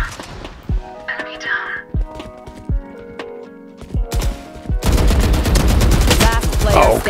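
Gunfire in the shooter Valorant, scattered single shots and short bursts at first with quieter game sounds between, then a dense loud stretch of rapid fire toward the end, with a voice talking over it.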